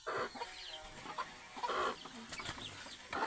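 Farm chickens cluck in short repeated bursts, close and fairly loud, with a few brief squawks scattered through.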